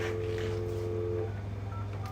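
Telephone keypad on a landline producing DTMF dialing tones, a sustained tone followed by fainter short beeps over a low steady hum, with no talking.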